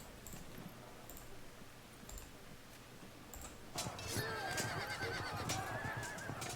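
Horses whinny in a Field of Glory II battle as horse archers close in, the neighing rising after a quieter stretch of game ambience and continuing over a busier, louder mix.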